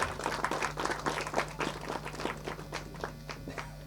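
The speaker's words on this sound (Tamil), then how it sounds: "அதுக்கு எல்லாருமே வந்து ஒரு கைத்தட்டில் கொடுத்துருவோம்" Audience clapping at a Tamil film audio launch event, a moderate ragged round of applause from a crowd, fairly near and tapering slightly toward the end.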